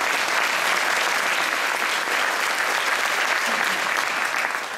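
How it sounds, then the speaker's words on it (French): A big audience at a school jazz band's farewell concert gives the staff a sustained, dense round of applause. The clapping stays loud and steady throughout, with crowd noise mixed in, and only starts to fade at the very end. "Donc une bonne main d'applaudissements à l'équipe."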